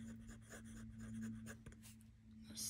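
An Esterbrook Jr. fountain pen scratches across paper in short, soft strokes, faint and close, with a steady low hum underneath.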